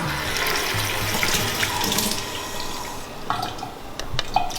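Water runs from a water filter tap into a sink in a home kitchen, a steady close rushing stream with some splashing and dripping near the end.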